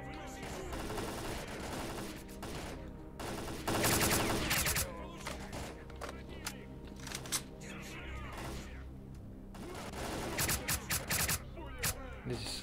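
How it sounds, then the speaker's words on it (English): Gunfire rattles in S.T.A.L.K.E.R.: Clear Sky as bullets tear into enemies. Dense bursts and volleys repeat across the stretch, with louder clusters of shots and voices in the game mix. "I just love the effect of bullets. Piercing the enemies."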